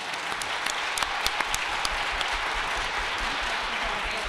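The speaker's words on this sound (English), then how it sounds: "please join me in giving these people a round of applause" Sustained clapping from an audience for a panel at a human trafficking forum, a steady wash of many hands with a few sharper nearby claps standing out.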